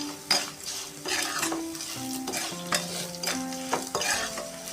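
Pulao masala gets stirred into food in an oily pan: a quiet background sizzle broken by repeated clinks and scrapes of a utensil against the pan at an uneven pace.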